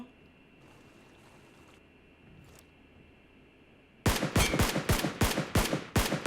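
Automatic gunfire in PUBG Mobile, an M762 rifle among the guns: a low, quiet stretch with a few faint distant shots, then a loud, close string of rapid shots in a steady rhythm.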